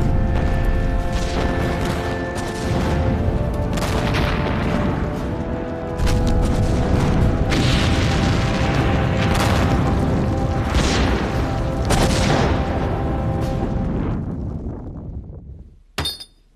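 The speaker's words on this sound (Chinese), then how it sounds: "把这个地方给我炸了" Demolition of an enemy watchtower position in a war drama: a sustained, loud roaring blast and rumble with repeated crashing surges of debris, fading out at the end with a final sharp crack.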